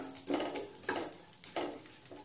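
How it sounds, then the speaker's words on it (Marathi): Dry fruits roasting in cow's ghee in a pan, a soft, fairly quiet sizzle that swells into three short bursts as they are stirred, with calmer frying hiss between. "तुपामध्ये थोडेसे 1-2 मिनिटं चांगले परतायचे आहेत।"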